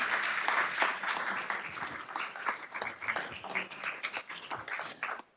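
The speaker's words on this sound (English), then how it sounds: "So let's give a round of applause for all the award recipients." An audience at a State of the City event applauds award recipients, a dense wash of many clapping hands that is loud at the start and gradually thins and tapers off toward the end.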